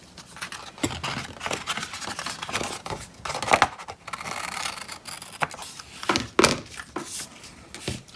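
Scissors cut into a paper Christmas card, a close series of crisp snips and rustling paper handling with irregular spacing and a few louder clicks, no talk.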